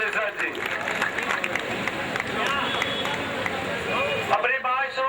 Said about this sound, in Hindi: कृपया साथियों जोरदार तालियों से स्वागत करें